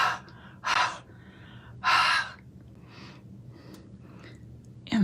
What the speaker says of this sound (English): Huff means you just breathe heavily on it.